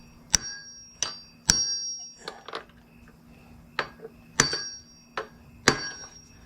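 Metal part used as a hammer, whacking a bushing into place on a Honda Helix scooter engine: about eight sharp ringing metallic strikes at uneven intervals, close and clear with little else around.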